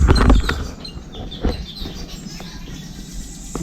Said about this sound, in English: some birds having a bit of a fight